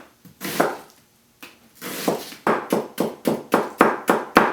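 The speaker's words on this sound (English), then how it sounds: "now we're going to cut them in chunks just like we did with the potatoes" A knife chops half an onion into chunks on a board in a kitchen, for a Tuscan soup, a few scattered cuts and then a steady run of about eight crisp, evenly spaced knocks, close and clear.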